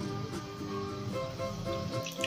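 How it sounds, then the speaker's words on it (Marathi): Previously fried oil is poured into a kadhai while Afghani chicken is being cooked, giving a steady, continuous liquid pour of even loudness with no talking. "हे फ्राय केलेलं तेल आहे, ते पण टाकून घेत आहे।"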